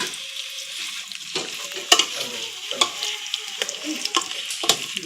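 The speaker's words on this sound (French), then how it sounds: "On peut laisser mijoter un peu notre oignon et de l'ail, même pendant 2 minutes." Onions and garlic frying in a pan, a steady sizzle with repeated sharp scrapes and clicks of a spoon stirring through them, close and fairly loud, with no voices.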